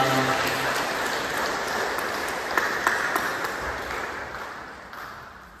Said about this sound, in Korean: 우리 다시 한번 격려하며 박수하겠습니다